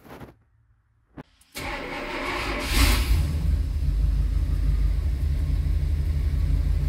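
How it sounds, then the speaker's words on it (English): A small-block Chevy truck engine with a new TBI throttle body cranks briefly, then fires at about a second and a half and settles into a loud, steady rumbling idle close by, with a short rise in revs just after it catches. "let's go turn the key over and see if she starts"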